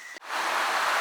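Steady rain hisses outdoors while a kayak loader is fitted to a roof rack, a dense broadband patter that comes in after a brief quieter moment with a faint tone and then holds evenly and close.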